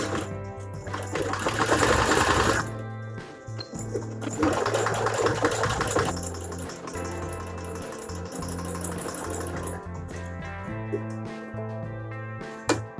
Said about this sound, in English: I like to back stitch over my pleats, so I'm going to put my pressure foot down.